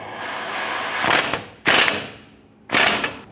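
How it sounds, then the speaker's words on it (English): An impact tool tightens a torsion bar adjuster bolt on a 2002-2008 Dodge Ram 1500, firing in three loud rattling bursts separated by brief pauses, close by with no talk. "I'm going to use our impact tool. I'm going to tighten this up"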